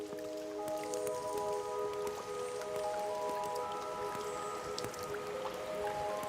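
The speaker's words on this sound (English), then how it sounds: "Drop by drop, the glacial dome releases its waters into the icy stream below" Meltwater dripping from the ice inside a glacier cave above an icy stream: a steady wet patter of many small drops and squishy splashes, close and continuous, with faint ringing tones running underneath.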